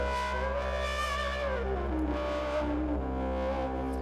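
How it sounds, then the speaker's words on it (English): A sustained tone from an Osmose synthesizer with harsh wavefolding distortion, buzzing harmonics sweeping and shifting over a steady low drone. "the way wavefolding distortion works is the more complex it becomes, the crazier it gets."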